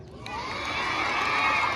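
Children in a school audience cheer and shout together at a BMX stunt show, a dense, steady crowd roar that builds in the first moments and stays loud throughout.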